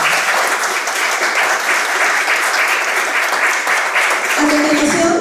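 A large audience at a literary panel on Edgardo Rivera Martínez breaks into loud, sustained applause, a dense, steady roar of clapping with no gaps. Near the end, a few tonal sounds and a voice start to cut in as it continues.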